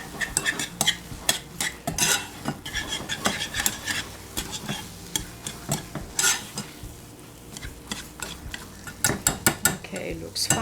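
A spoon stirring salt into a pot of Danish meatball and dumpling soup, with frequent sharp clinks and scrapes against the pot in an uneven rhythm, close and loud.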